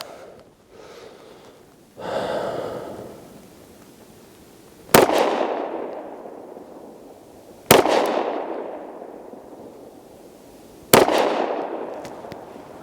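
Three loud gunshots from a Springfield Ronin 10mm 1911 pistol, spaced a few seconds apart outdoors, each a sharp crack with a long echoing decay, after some breathing-like noise at the start.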